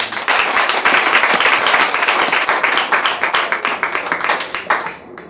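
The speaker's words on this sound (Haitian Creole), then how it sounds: "On va donc applaudir." A church congregation claps together in a sustained burst of applause that holds steady and then thins out toward the end.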